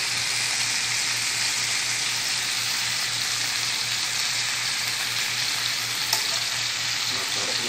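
Fish grills in a hot pan in a home kitchen, giving a continuous, even, close sizzle that hisses steadily throughout with no speech.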